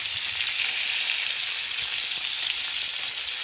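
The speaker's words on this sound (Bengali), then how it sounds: "তো এখানে আমি মানে মাছ ভাজবো" Fish frying in a pan, a steady, close and fairly loud hiss of sizzling oil that holds even from start to finish with no talking.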